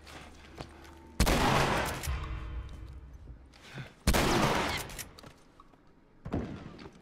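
Gunfire aimed at the player in The Last of Us Remastered: two loud, sharp blasts a few seconds apart with a third, softer shot near the end, each trailing off in a reverberant tail over quiet background.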